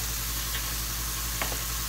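Filet mignon steaks sizzling in a hot cast iron skillet, a steady, even hiss with a couple of faint crackles near the end, no voices.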